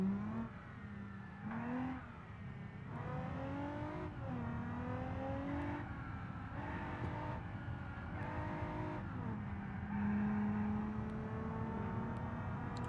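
A 280-horsepower naturally aspirated sports car in a racing game revs and shifts repeatedly, its engine note climbing and dropping through gears, steady and fairly close with brief tire noise.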